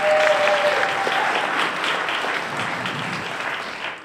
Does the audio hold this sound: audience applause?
yes